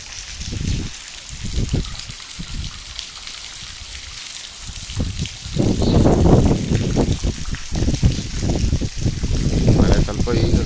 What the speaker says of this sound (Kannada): ಮಳೆ ನೀರು ನಾಪೋಲ್ ರಸ್ತೆ ಮೇಲೆ ಇದೆ.